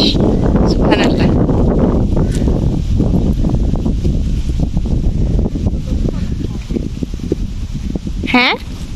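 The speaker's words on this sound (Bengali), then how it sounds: "ও, এত সুন্দর বাতাস, সুবহানাল্লাহ।" Wind gusts across a beach at Pulau Indah, Malaysia, as a steady, loud low rumble of buffeting on the microphone that fills the whole stretch, with voices and other sounds faintly beneath it.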